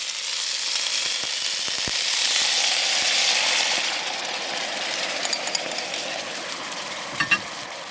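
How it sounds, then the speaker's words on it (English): Sauce poured into a hot pan holding shrimp-stuffed sweet mini peppers, setting off a loud, steady sizzle that softens slightly, with a few sharp pops and clicks near the end. "then I'm going to put all the sauce in it"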